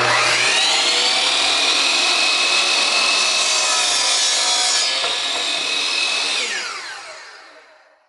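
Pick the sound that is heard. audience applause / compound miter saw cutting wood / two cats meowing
compound miter saw cutting wood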